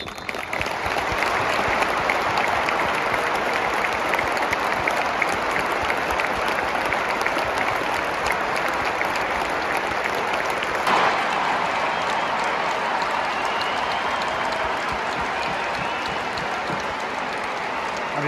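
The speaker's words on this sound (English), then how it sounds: "Please join us for a minute's applause to celebrate Colin's life, which will begin and end on the referee's whistle." A stadium crowd at a women's football cup match applauds steadily for a minute's tribute, dense sustained clapping filling the whole stretch with a slight shift partway through, without talk.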